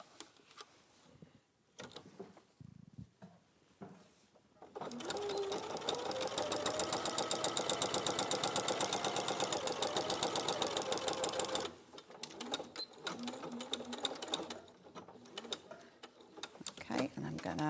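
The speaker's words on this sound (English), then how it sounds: "we're just going to top stitch this bottom edge just here" A sewing machine top-stitches along a fabric's bottom edge in one steady, rapid run of needle clatter lasting several seconds, with the motor's whir close up; a person talks briefly before and after the stitching.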